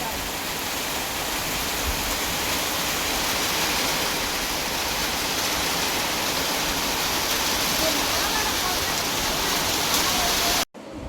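Heavy rain pours down over a farm after a long dry spell, a dense, steady hiss of water falling on the ground that continues evenly until it cuts off abruptly at the very end.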